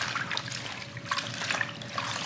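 Water runs and trickles steadily while turnip greens are washed, with splashing bursts and patters as the leaves are handled under the flow.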